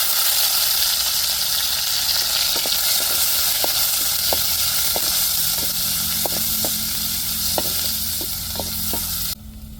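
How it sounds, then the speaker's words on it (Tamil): Onions and fenugreek seeds frying in hot oil in a pan for a prawn, crab and fish curry, a loud steady close sizzle with scattered crackles and stirring scrapes throughout. "வெந்தயம் நல்லா பொரியட்டும் பொரிஞ்சதுக்கப்புறம் நம்ம வெங்காயத்தை சேர்த்துக்கிடுவோம் இப்போ வெங்காயத்தை சேர்த்துக்கிறோம்"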